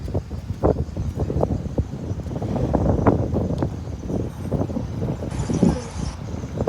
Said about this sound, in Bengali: প্রচণ্ড বাতাস এখন